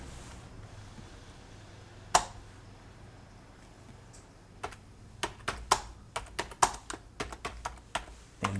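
Computer keyboard typing while setting up a stock price alert: a single sharp keystroke, then a quick irregular burst of clicks later on, close and fairly quiet against a faint background hum.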